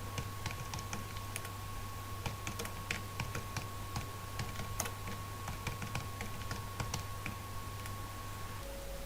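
Computer keyboard typing, quiet irregular clicks of keys pressed in quick bursts over a faint steady electrical hum, close by with no talking.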